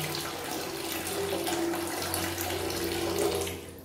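Tap water runs fast and steady through a faucet filter set to bypass, a loud continuous splashing rush into a sink, close and alone.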